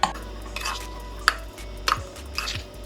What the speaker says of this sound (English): Go ahead and make sure that your meat is well coated with the seasonings